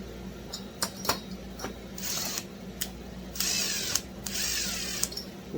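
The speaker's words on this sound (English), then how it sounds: "We'll put 2 screws in it and tighten it up." Screws being driven into a Husqvarna 371 XP chainsaw part with a power driver, in several short whirring bursts separated by quiet pauses and small clicks, close and moderately loud.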